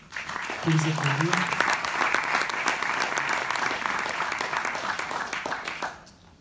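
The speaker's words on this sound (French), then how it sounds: "Les applaudir." An audience at an award ceremony bursts into sustained applause, dense clapping that swells quickly, holds steady for several seconds and then fades out, with a brief voice near the start.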